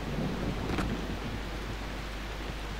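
Rain falls steadily as a dense, even hiss in the Far Cry 3 video game, with a low thunder rumble underneath and a brief louder crack early on, and no voices.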